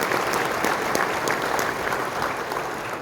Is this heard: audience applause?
yes